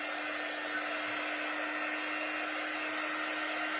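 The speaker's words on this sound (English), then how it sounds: "let me just hit this with the dryer just to be sure it's all good" Hair dryer blowing on a handmade gift craft, a steady close whoosh with a constant motor whine, continuous and alone.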